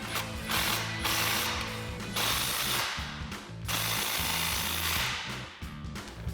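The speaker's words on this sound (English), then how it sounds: "we're gonna grab our 14 millimeter socket on our impact" An impact wrench with a 14 mm socket runs in bursts while tightening an aluminized dual exhaust clamp on a RAM 1500, with loud rattling hammering that pauses and restarts several times, close up.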